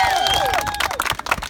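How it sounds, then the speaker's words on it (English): A crowd at an informal award moment claps and cheers, a dense, steady wash of applause with scattered whoops, close and loud throughout. "So round of applause."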